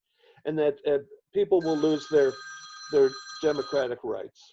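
A telephone rings with steady repeated tones that run behind continuous nearby speech.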